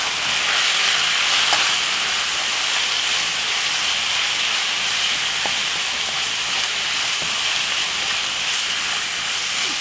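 Jerk-seasoned beef mince with paprika sizzles steadily in a pot, a constant bright hiss with faint scrapes of stirring; no voices.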